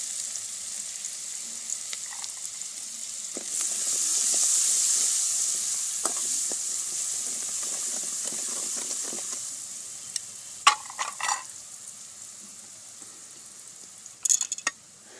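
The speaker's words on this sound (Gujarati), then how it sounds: "ડુંગળી ઉમેરી દઈશું અને તેની સાથે આપણે લસણ પણ ઉમેરી દેવાનું છે" Onion and garlic sizzle in a hot pan as a village-style Gujarati dish cooks. The frying hiss stays steady and fairly quiet, with a few utensil clinks and stirring taps near the end and no voices.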